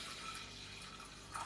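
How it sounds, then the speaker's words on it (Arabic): Water poured from a container over rice and other ingredients, a steady splashing fill running close and continuous with no talking. "حطي مية كفاية فوق الكمية دي"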